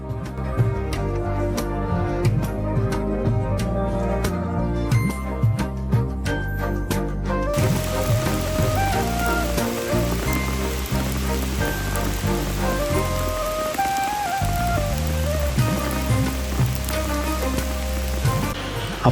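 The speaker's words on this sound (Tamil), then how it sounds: "திரும்பவும் மழை பெய்ய ஸ்டார்ட் ஆகிடுச்சு." Steady rain falls in the hills around Anakulam in Kerala, a constant close hiss of drops on surfaces that runs throughout beneath music.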